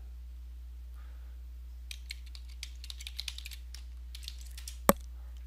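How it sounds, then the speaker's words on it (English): A password is typed on a computer keyboard in a short quick burst of soft key clicks. A louder final keystroke, likely the enter key, ends it over a faint background hum. "And the password, type in our password."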